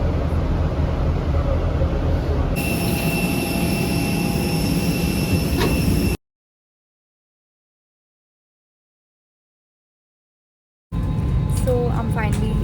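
Steady broadband roar of a jet airliner cabin in flight on a trip to Amritsar, loud and continuous, cut by a long silent gap before the drone resumes with faint talk and cabin sounds.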